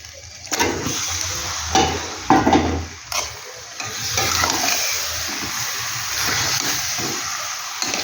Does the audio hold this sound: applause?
no